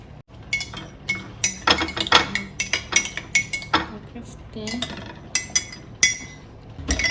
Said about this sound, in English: Put in some ice like that.